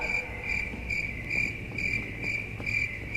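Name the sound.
crickets chirping sound effect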